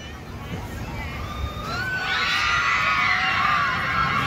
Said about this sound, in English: You can just hear those painful screams.